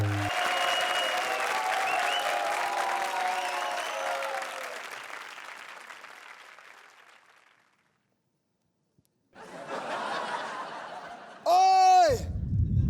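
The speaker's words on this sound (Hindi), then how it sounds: "जोरदार तालियों के साथ स्वागत कीजिए धर्म के धर्मेश और प्रिंस का" A studio comedy-show audience gives sustained loud applause mixed with laughter to welcome two dance performers. It fades to silence, then a short burst of clapping returns before an abrupt musical swell.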